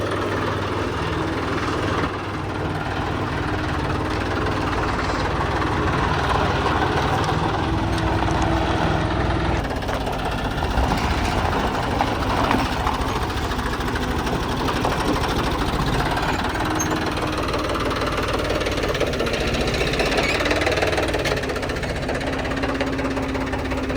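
A farm tractor's diesel engine runs at a steady idle just after starting, with a continuous rough, knocking chug that stays loud and even throughout.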